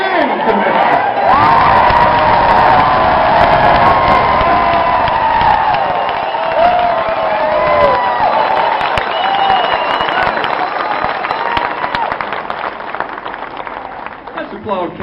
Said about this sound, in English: Let's applaud Kevin one more time.